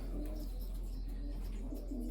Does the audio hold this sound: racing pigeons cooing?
yes